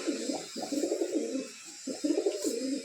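Caged pigeons coo in repeated low throaty phrases, close and clear, with a short pause midway before the cooing resumes.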